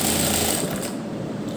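A sewing machine stitches the seam of a fabric cuff sleeve with a fast, dense mechanical whir and rattle, loud and close. It runs alone and eases off slightly toward the end.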